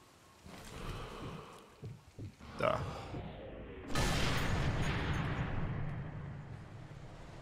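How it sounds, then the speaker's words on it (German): Gunfire in the video game Sniper Elite 3 (Save Churchill DLC): a few sharp shots crack out, then a heavy booming burst rolls on, while someone talks at times. "Na, wo kommen die Schüsse her?"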